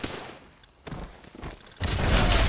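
Gunfire and explosive booms in the World War II shooter game Call of Duty: World at War, with scattered shots and thuds building into a loud, dense burst of fire near the end.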